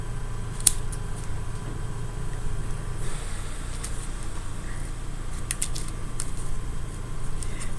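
Scissors trim paper for a handmade stamped greeting card, a few crisp snips over a steady low background hum, with no talking.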